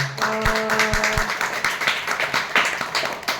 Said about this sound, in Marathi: त्याचं जोरात टाळ्या उद्या.